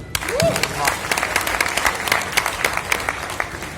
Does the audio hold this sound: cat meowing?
no